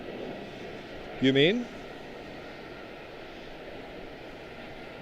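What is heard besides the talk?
Etihad airliner at Charlotte-Douglas International Airport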